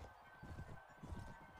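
Horse hooves clip-clopping in the medieval combat game Mount & Blade: Warband with the A New Dawn mod, a quiet, steady run of soft thuds under faint background game noise.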